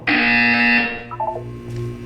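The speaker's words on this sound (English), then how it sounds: "When you hear the buzzer, look down at the floor" A Portal 2 test buzzer blares in a loud sustained burst lasting under a second, followed by a few softer electronic blips over a low steady hum.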